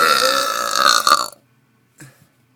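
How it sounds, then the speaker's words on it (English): A woman lets out a long, loud, gravelly burp during a burp contest, lasting over a second before cutting off, followed by a brief faint sound after a pause. "She burped."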